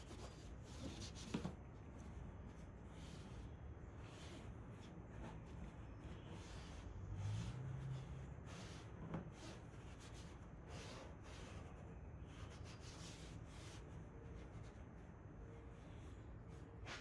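A cloth wipes Cerakote ceramic trim coat flat across textured Hummer plastic trim, a soft continuous rubbing close by with a couple of brief bumps.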